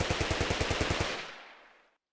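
Rapid automatic fire from an Uzi submachine gun in modded Minecraft, about a dozen evenly spaced shots in a quick burst, then a reverberant tail fading out over the last second.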